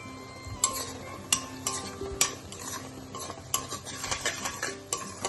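A spoon or spatula stirs rajma kidney bean curry in a pan, giving a run of soft scraping strokes with sharper clinks against the metal over a low, steady bubbling simmer, close and with no talking.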